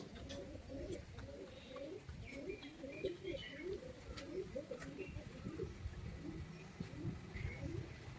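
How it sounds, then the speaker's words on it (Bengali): Kathlal pigeons coo in a soft, repeated, throaty rhythm throughout, close and fairly quiet, with a few faint chirps in the background. "কাঠলালের জোড়াটা আমি ঘরে ঢুকিয়ে দিচ্ছি এখন"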